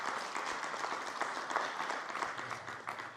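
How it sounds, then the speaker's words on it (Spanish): A church congregation applauds steadily throughout, a dense wash of many hands clapping with no gaps, at a moderate level. "I want you all to give yourselves a round of applause"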